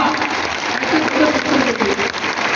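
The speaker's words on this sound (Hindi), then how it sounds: "तो एक बार जोरदार तालियां" Enthusiastic audience applause at a company business event, a dense burst of clapping from a crowd that fills the whole moment loudly and evenly.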